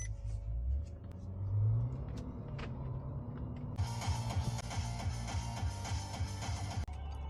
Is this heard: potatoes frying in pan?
no